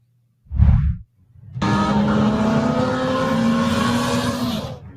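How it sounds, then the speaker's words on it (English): Car speeding down an empty motorway in Chile at night, passing as a loud sustained engine roar and whoosh after a brief thump, holding steady for several seconds with no talk. "You can see a car racing down the road at lightning speed"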